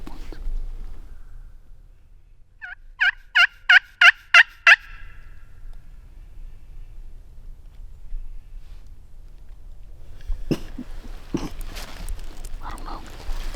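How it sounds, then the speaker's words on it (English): Wild turkeys gobble in a quick burst of about six rolling calls during a turkey hunt, moderately distant and clear, followed by soft rustling and faint whispered talk. "They seem to be the ones gobbling the most."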